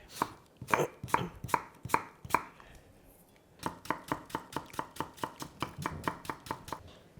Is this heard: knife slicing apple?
yes